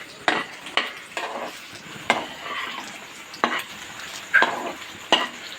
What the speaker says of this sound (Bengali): নাড়তে হবে যতক্ষণ যে পনিরের কালারটা একটুখানি ব্রাউন কালার এসে যাবে